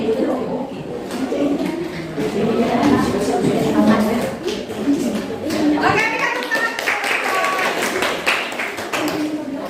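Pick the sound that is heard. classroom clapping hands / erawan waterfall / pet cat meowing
classroom clapping hands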